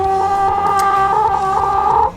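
Chickens in a backyard coop give a sustained, close, loud drawn-out call with a tonal, crowing-like quality, backed by softer clucks and faint scratching, with no talking.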